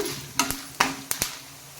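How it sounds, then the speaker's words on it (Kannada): Byadgi chillies frying in oil, with a few sharp stirring scrapes and clicks over a faint, quiet sizzle. "ನೋಡಿ, ಇವು ಫ್ರೈ ಮಾಡುವಾಗ ಸ್ವಲ್ಪ ಬ್ಯಾಡಗಿ ಮೆಣಸನ್ನು ಇದರೊಟ್ಟಿಗೆ ಹಾಕ್ತೇನೆ"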